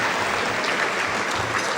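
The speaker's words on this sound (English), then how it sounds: "I think a round of applause is deserved for those people." Audience at an award ceremony clapping in a full, continuous roar of applause that stays level and close from start to finish.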